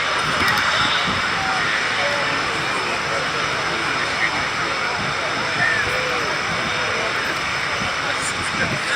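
Boeing 757 jet engines roar in a broad, steady wash of noise at an air show, loud and sustained without a break.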